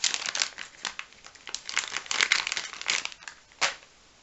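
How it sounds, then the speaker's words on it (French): Adhesive tape being peeled away after eyeliner application in a makeup session, heard as a close series of crinkly, crackling rips and pulls, with a final sharper tear near the end; no talking. "je viens enlever les scotch"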